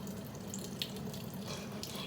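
A water tap runs steadily into a sink, a faint continuous splashing hiss with no talking.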